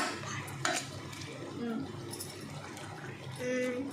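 Tomatoes are mashed in a pot for tomato kadaisal, with scattered clinks and wet, muffled knocks of the masher against the vessel, under faint voices in the background.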